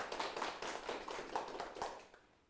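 Brief clapping for two student presenters in a university classroom lesson demonstration, a short patter of hands at moderate loudness that tapers off quickly into quiet.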